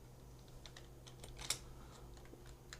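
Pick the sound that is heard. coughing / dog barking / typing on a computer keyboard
typing on a computer keyboard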